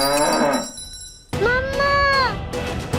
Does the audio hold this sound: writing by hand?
no